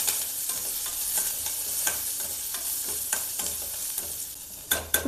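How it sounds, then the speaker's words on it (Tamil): Shallots, garlic and curry leaves fry in a pan for Tirunelveli sodhi kulambu, giving a loud, continuous oily sizzle broken by sharp scraping clicks of stirring. "இதில் நம்ம கருவேப்பிலை போட்டுக்கலாம். அப்புறம் சின்ன வெங்காயம், பூண்டு வச்சுருக்கேன், அதை தாளிச்சிக்கலாம்"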